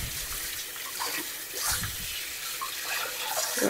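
Tap water running into a kitchen sink as freshly harvested garden kale is washed, a steady splashing hiss with small shifts as leaves move under the stream, close and fairly quiet, with no speech.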